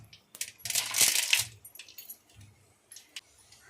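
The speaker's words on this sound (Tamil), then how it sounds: "கடுகு பார்த்தீங்கன்னா நல்லா பொரிஞ்சிட்ருக்கு" Mustard seeds splutter and pop in hot sesame oil, giving sharp crackling bursts that come close and fairly loud, then turn into scattered smaller pops as the sizzle tapers off.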